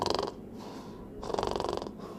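A child snores while breathing through the mouth, two long rasping inhalations in slow rhythm, close and steady, with a quieter breath between them.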